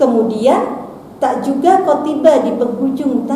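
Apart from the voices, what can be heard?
None of the usual background noises is heard.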